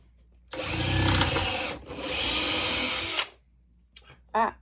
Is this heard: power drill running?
yes